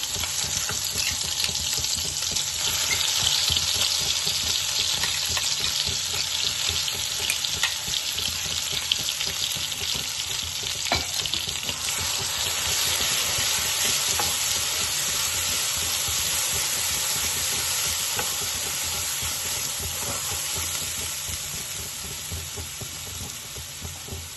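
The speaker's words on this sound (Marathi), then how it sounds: "बारीक केलेला मसाला टाकूया." Ground masala sizzles and fries steadily in a hot pan for an Indian wet pigeon pea (tur) masala amti, a continuous close hiss with faint stirring scrapes throughout and no talking.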